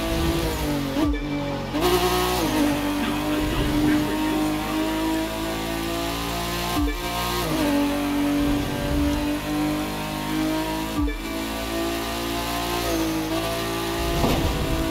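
A Nissan Skyline GTR R34 touring car in The Crew 2 racing game revs hard and continuously, its engine note climbing and dropping with gear shifts, loud and steady across the whole stretch with no talk over it.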